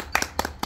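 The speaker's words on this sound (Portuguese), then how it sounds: "Uma salva de palmas." A short burst of hand clapping, three quick claps close to the microphone, heard alone with no voices.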